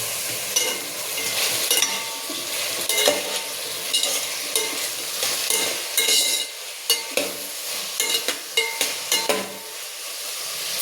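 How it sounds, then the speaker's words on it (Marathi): Vegetables go into a hot pan for sambar, cooked with onion and tomato: a soft sizzle runs under repeated close scraping and stirring clacks that sharpen and quicken toward the end. "आता आपण ह्या भाज्या टाकून द्यायच्या।"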